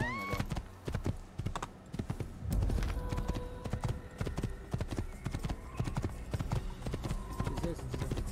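Horse hooves clip-clopping in the Assassin's Creed video game, a quick steady run of sharp hoof clops with a brief whinny, close up, while someone talks over the gameplay.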